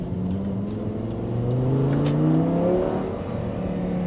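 A V10 sports car with a gated manual gearbox accelerating hard, its engine note climbing steadily in a strong, continuous rev close by, with no talk.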